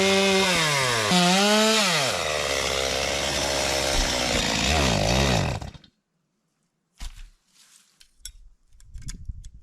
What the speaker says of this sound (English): My chainsaw bar is overheating even though I got plenty of oil